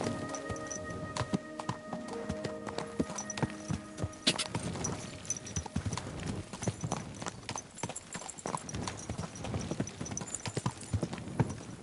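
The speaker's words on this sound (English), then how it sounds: "Someone's been pampering this horse." Horse hooves clop in a steady rhythm on a hard surface in the game Kingdom Come: Deliverance II, close by, with a bright tonal hum fading out early and faint background noise.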